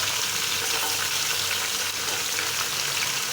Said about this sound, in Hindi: अब तकरीबन इसको 10 से 15 मिनट हम इसको अच्छी तरह से भून लेंगे।